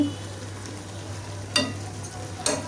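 Frozen tomato hits a hot pan of shing fish curry and sizzles steadily, with a low hum underneath and two sharp bursts of crackling spatter near the end.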